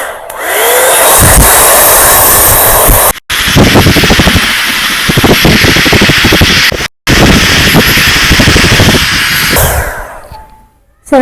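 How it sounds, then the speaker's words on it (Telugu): A hot air brush from an online shopping order blows hot air in a loud, steady whooshing roar that cuts out twice for a moment and then tapers off at the end. "హాట్లో పెట్టిన హాట్ ఎయిర్ వస్తుంది."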